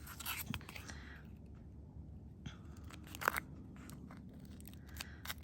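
Quiet scissors snipping through sticky aluminium metal tape, a few short crisp cuts with faint rustling and handling noise between them, no talking.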